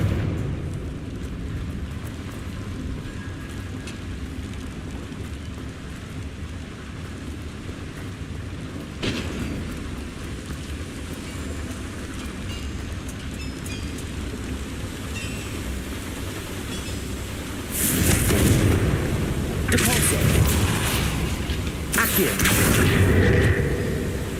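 A Confringo fire spell bursts in the video game Hogwarts Legacy, heavy booming blasts near the end over a low rumbling game background.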